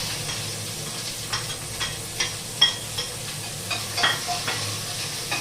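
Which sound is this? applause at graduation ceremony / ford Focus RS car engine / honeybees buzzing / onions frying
onions frying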